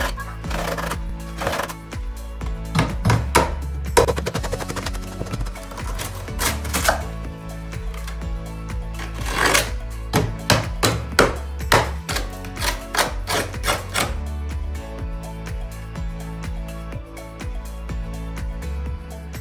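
Cement board pieces being cut for a shower wall install, a rapid series of sharp scoring and snapping cracks in irregular bursts, close and fairly loud with no talking.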